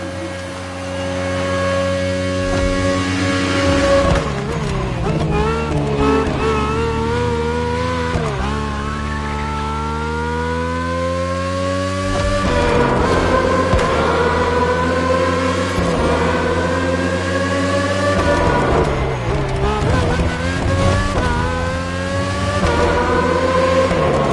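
A Ferrari 488 GT3 race car engine in The Crew Motorfest roars loudly and steadily, rising and falling in pitch through repeated upshifts and revving pulls with no talk over it.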